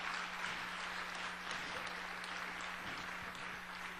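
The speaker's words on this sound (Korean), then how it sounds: "크게 박수 한번 해주시기 바랍니다." Congregation applauding at a Wednesday church service, a steady broadband wash of clapping that fills the whole clip without pause, with a low constant hum underneath.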